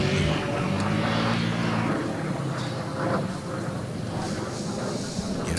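An L-39 jet coming in to land at the Reno Air Races with its gear down, a loud, continuous, broad engine roar held steady throughout with no clear rise or fall.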